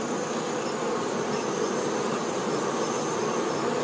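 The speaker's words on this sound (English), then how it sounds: "This acrobatic-like behavior by the honeybees occur when they build their hive." Honeybees building their hive make a dense, continuous buzzing hum that stays steady and close throughout, with no voices.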